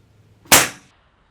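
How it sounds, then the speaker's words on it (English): A Crosman Legacy 1000 pump air rifle fires after 12 pumps, one sharp loud crack with a quick decaying tail, close and alone. "now I just pumped it up to 12 pumps. Let's see if it's any louder."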